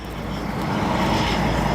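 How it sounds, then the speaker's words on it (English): A China Airlines cargo Boeing 747-400 departs from O'Hare, giving off a loud, steady, broadband engine roar that swells slightly over a short span. "we also have a heavy, a 747 that will be departing. China Airlines cargo. That right there, a 747-400."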